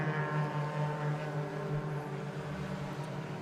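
Racing cars at an Oulton Park race drone steadily from a distance, a continuous engine hum with harmonic layers that swells slightly as the field passes, with no voices over it.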